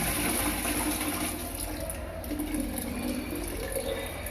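Water rushes steadily from a Jaquar concealed-tank toilet as it flushes, a continuous broadband gushing with a low rumble throughout, close and moderately loud, without speech.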